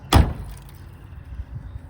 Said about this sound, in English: All right, close this door.